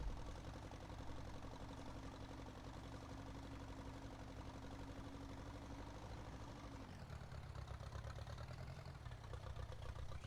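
A tractor engine idles steadily in Farming Simulator, a low, continuous mechanical drone holding constant before shifting slightly in pitch toward the end, heard alone with no talking.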